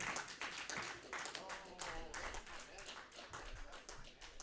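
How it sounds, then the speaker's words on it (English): Comedy show crowd applauding a stand-up comedian after his set, bursts of sharp clapping throughout with a host's voice talking over the applause. "Big round of applause, Mr. Evan Ham."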